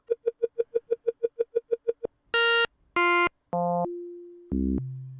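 FM synthesizer patches: a fast run of a dozen short clicky plucked blips, then several held brassy and buzzy tones stepping downward, each lasting about half a second, played alone with no voices.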